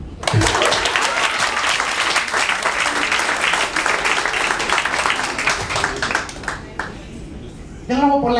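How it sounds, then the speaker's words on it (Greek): An audience at a book presentation claps in sustained, dense applause that fades out toward the end, after which a voice begins speaking. "Χειροκρότημα."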